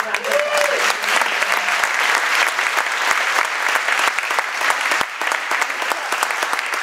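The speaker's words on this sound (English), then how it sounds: "A great, great big round of applause." Loud, sustained applause from a large crowd at an elementary school Christmas concert, dense clapping filling the room steadily throughout, with a few faint voices mixed in.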